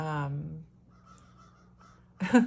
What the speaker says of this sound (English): I haven't heard the crows in so long